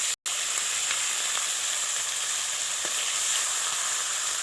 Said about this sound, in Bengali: মাছটাকে ভালো করে ভেজে নিতে হবে এপিট করে